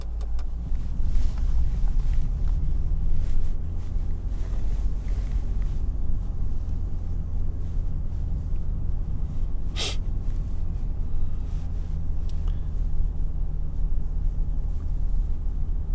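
A 2022 Toyota Tundra on BF Goodrich KO2 tires creeps through deep snow in crawl control, giving a low, steady engine and drivetrain rumble with one short sharp hiss partway through.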